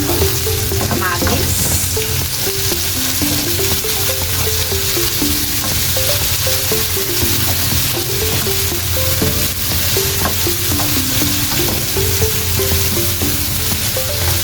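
Onions frying in a pan with a loud, steady sizzle and stirring, accompanied by a faint melodic tune in the background.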